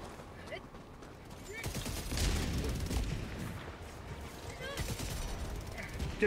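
A sentry turret in Helldivers 2 fires rapid, sustained bursts of gunfire amid a dense, noisy battlefield din, steady and fairly loud throughout with scattered sharper cracks.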